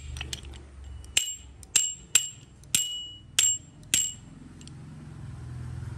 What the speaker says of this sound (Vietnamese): họ có chuông luôn nha.